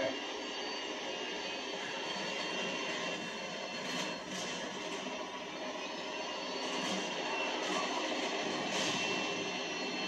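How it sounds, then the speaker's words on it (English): A Harrier jet in the video game Modern Warfare 2 roars steadily overhead, a loud broadband engine wash with slight swells that holds for the whole stretch without any talking. "Another Harrier!"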